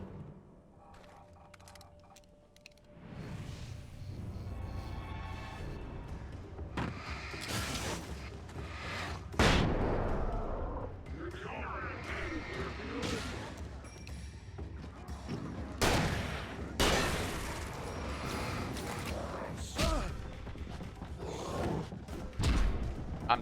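Shotgun blasts in the video game Alan Wake, several loud booming shots spaced irregularly over a rumbling, creaking background, with no talk.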